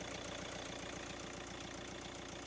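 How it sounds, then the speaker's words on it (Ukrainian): A 2014 Hyundai ix35 1.7 CRDi diesel engine idles with a steady, low, rhythmic sound and an even, faint knocking pulse, close by and continuous, with no talking. "Двигун працює рівнесенько."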